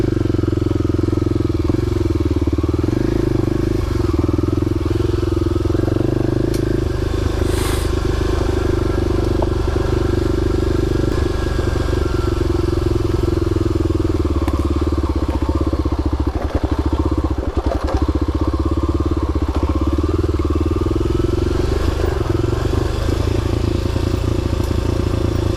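A motorcycle riding along a narrow country lane surfaced with loose type 1 gravel, its engine droning loud and steady throughout, with crunching and clattering from the stones under the tyres.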